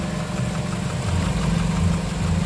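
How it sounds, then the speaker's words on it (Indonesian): A 1990 Toyota Starlet XL (EP70) engine idles smoothly with a steady low rumble and constant hum, close by, with no talking. "Nih, mesin nyala ya, dan masih halus."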